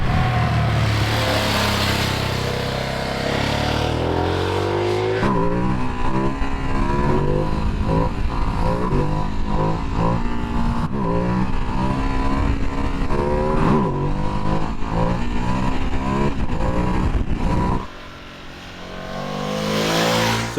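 Ducati Streetfighter V2S motorcycles riding out on an open road, loud close engine drone with shifting revs and gear changes, sustained for most of the stretch before dropping briefly and building again.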